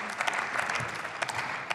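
Brief burst of steady applause from members in the German Bundestag chamber during a debate on the Atomic Energy Act, dense clapping throughout.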